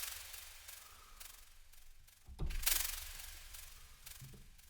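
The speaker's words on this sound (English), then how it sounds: "we're going to high pass filter it" A white-noise synth patch in Vital is high-pass filtered, giving a steady, thin, hissy wash that swells briefly to a brighter burst midway before settling back, with no voices over it.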